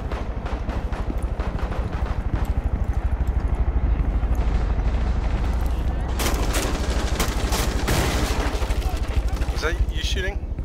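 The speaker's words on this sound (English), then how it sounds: "Uh-oh, I'm being shot at." Rapid automatic gunfire in the video game Rainbow Six Siege, Border map in team deathmatch, hammers in dense continuous bursts with sharp louder shots and impacts breaking in midway, while players talk over it.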